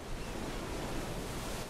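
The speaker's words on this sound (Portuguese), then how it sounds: "Para uma pequena ave, estas ondas são vastas e mortais." Ocean waves break on an African coast as a steady roar of surf with broad, continuous hissing wash that stays loud and even throughout.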